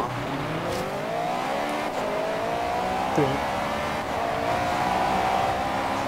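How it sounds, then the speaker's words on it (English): Revving Honda VTEC engines and racing sounds from the video game Forza Horizon 3 fill the background while a voice briefly speaks over them. "the sound of VTEC racing is so good"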